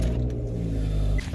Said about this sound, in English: Car turns on.